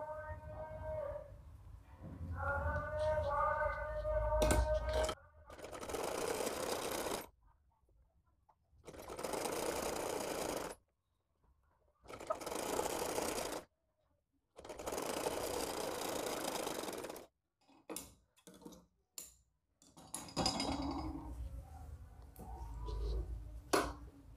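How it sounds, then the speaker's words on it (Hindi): Sewing machine stitching the arm seam of a handmade party-wear frock, heard in several loud bursts of steady whirring separated by short pauses, with some quieter handling noise at the start and end. "अपने आर्म्स और लेंगे और यहाँ पर सिलाई लगाएंगे"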